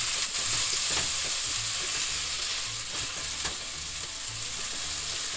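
Onion and garlic sizzling together in a pan for snails in sauce, a steady close frying hiss with occasional stirring scrapes throughout.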